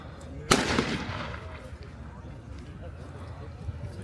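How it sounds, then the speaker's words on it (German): A single loud sharp bang, like a gunshot, from a World War II Wehrmacht reenactment scene with a Sd.Kfz. 251 half-track nearby, followed by a decaying echo and low background rumble. "Ich weiß gar nicht, wer da gerade schießt."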